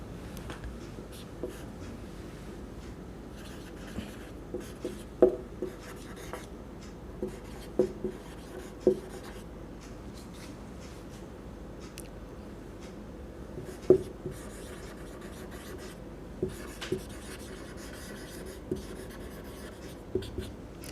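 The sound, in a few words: writing with pen on paper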